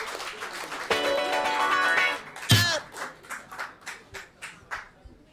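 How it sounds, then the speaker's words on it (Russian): An audience at a poetry reading applauds the poet Maria Kharchenko. After a brief stretch of sound, the clapping settles into a steady, evenly spaced rhythm of moderately loud claps. "Бурные аплодисменты!"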